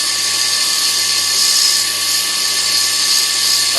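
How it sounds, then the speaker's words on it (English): Sandpaper pressed against a wooden pen turning on a lathe, a steady high whirring hiss with a constant motor hum underneath, close and continuous with no speech. "You don't need an awful lot of pressure when sanding a pen"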